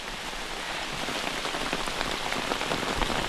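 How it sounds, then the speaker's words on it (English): Heavy rain pours onto the roof of an outdoor forest kitchen, a dense, constant hiss of drops drumming close by and steadily building slightly in intensity, with no voices. "Against my work, again heavy rain."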